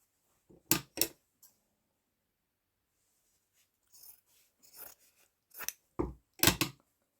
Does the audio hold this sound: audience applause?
no